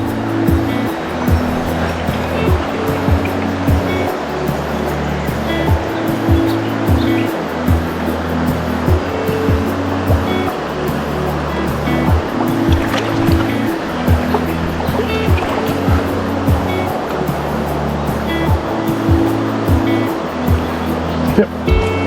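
A mountain stream in Victoria, Australia flows steadily throughout, a dense, continuous rushing of water with no pauses, close and fairly loud, with no talk over it.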